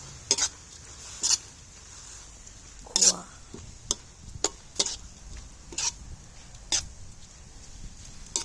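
Meat for Thai larb being stir-fried in a pan, with a utensil scraping and tapping in sharp irregular strokes over a faint background sizzle, close and without talk.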